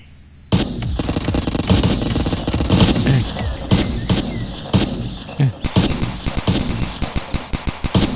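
Video game gunfire erupts in loud, close bursts of rapid automatic shots, followed by a rhythmic series of single shots, with a voice talking briefly.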